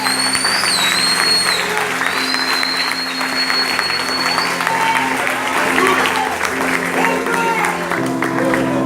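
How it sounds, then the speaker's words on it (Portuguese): Sustained, dense applause from a large crowd fills the whole stretch, steady and loud, with a few high whistles riding over the clapping. "Você pode aplaudir essa aí de novo?"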